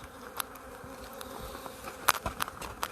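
Honey bees buzzing around hive frames during an autumn colony check, a faint continuous drone with individual bees zipping close by in brief louder passes.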